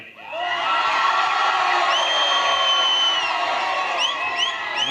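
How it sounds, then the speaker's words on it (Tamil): College students in an auditorium erupting in cheers and whoops, a loud, sustained burst of crowd noise with high whistles and shouts cutting through. "சுந்தரபாண்டியன் பட வசனத்தை கூறிய போது மாணவர்கள் ஆரவாரம்"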